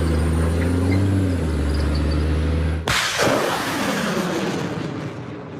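A HIMARS rocket launcher fires with a sudden loud blast that cuts through a steady vehicle engine drone, followed by a long roaring whoosh fading into the distance.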